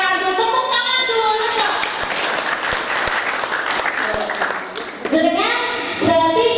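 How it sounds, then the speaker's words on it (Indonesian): An audience at an Islamic sermon claps hands in a loud, dense burst lasting several seconds, framed by a speaker's voice before and after and mixed with crowd murmur. "Tepuk tangan dulu."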